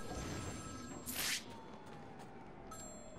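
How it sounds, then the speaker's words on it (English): A phone rings in the Batman: Arkham City video game, a short trilling burst over a busy game soundscape with faint tonal hum and background effects. "Zaz calling for Batman."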